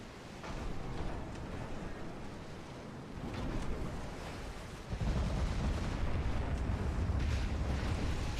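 Battleship main guns firing full broadsides in Ultimate Admiral Dreadnoughts, heavy booming blasts and rumbling impacts over a constant sea-like wash, with a big surge of low thunder partway through that stays loud to the end.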